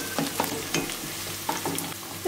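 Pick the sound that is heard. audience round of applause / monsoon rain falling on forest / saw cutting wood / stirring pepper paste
stirring pepper paste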